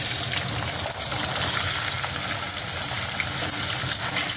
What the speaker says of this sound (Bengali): এই আলুটা একটু ভেজে নিচ্ছি।